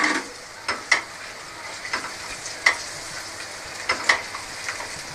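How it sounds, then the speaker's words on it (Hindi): Potatoes and masala with yogurt fry in a pan for aloo palak, a steady close sizzle broken by repeated sharp scraping and stirring clinks of a spoon against the pan. "इसी में ये आलू मैंने गला लेने हैं, मसाला भी भून जाएगा और आलू भी भून जाएगा"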